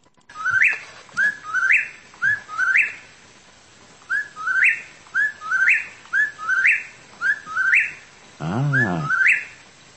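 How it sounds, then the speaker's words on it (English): A whippoorwill sings a loud, close run of repeated whistled three-note calls, about a dozen in steady rhythm, with one rougher call near the end and no voices. "Wait, a whippoorwill."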